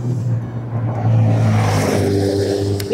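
A Segway SS1 special-class moped runs at full throttle, its steady motor whine and road rumble holding loud and close for the whole stretch, pitch climbing slightly near the end.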